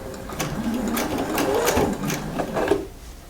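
A sewing machine stitches French terry sweater fabric in a short, steady whirring run that rises and dips slightly in speed, close by and without talk.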